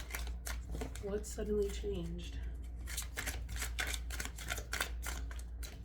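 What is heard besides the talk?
shuffling a big tarot card deck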